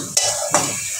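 Spices with black cumin powder frying briefly in a pan for prawn bharta: two or three sharp spatula scrapes over a low sizzle, close and short, with nobody talking.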